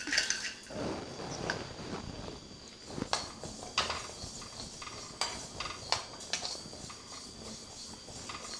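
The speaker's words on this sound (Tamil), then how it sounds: "இது இந்த பாசிப்பருப்பை பொன் வறுவலாக வறுக்க போகிறேன்." Moong dal dry-roasting in a heavy kadai, with scattered clicks and scraping knocks of a ladle against the metal pan, irregular and fairly close, over a light background hiss.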